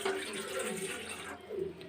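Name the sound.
a glass of water being poured in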